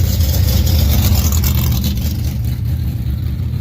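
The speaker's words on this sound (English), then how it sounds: "Loud cars." Loud, steady roar of powerful drag racing car engines close by, a continuous deep rumble with revving surges throughout.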